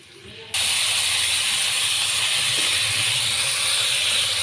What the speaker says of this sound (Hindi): इसको इतना फ्राई करना है कि चिकन अपना कलर चेंज कर ले